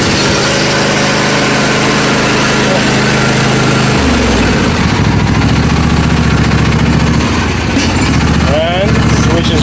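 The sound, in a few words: John Deere 155D lawn tractor engine started and running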